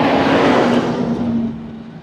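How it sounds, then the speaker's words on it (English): A big old truck rolls past loudly on an Ohio road, a broad roaring engine rumble with a steady low hum that swells then slowly fades as it moves away. "because of a big old truck, it's gonna be loud"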